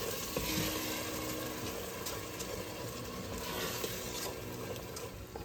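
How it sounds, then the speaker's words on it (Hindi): Tomatoes fry over high heat in a pot after a ginger, garlic, green chilli and coriander-stem paste, a soft, continuous sizzle with light stirring scrapes, fairly quiet and steady. "तीन 4 मिनट तेज़ आंच में ही टमाटर को भूनेंगे"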